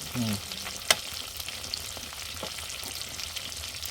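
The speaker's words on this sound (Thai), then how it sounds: "นำมาทอดให้กรอบๆนะ เป็นปลาหมอนะ ปลาหมอปลาช่อนนะ ทอดกรอบกิน" Field-caught climbing perch and snakehead fish deep-frying in oil, a steady close crackling sizzle with a sharp clink near the start.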